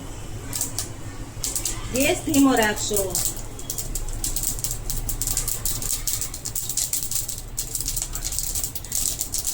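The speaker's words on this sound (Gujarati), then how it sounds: "રાઈને ફૂટવા દેશું" Mustard seeds crackle and pop in hot oil in a kadai, quick irregular snaps scattered throughout at close range, while someone speaks briefly over them.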